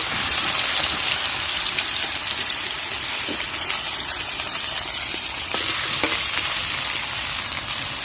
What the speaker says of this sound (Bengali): তেলটা গরম হয়ে গেলে প্রথমে আলুটা ভেজে নেবো লাল লাল করে।